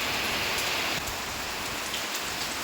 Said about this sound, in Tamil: பெய்ய ஆரம்பிச்சிச்சு மழை.